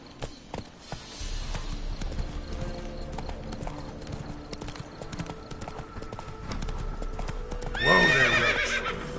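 Hooves of the horse Roach in The Witcher 3 beat a steady clip-clop through most of the stretch, under game ambience and faint talk, before a loud whinny breaks in near the end.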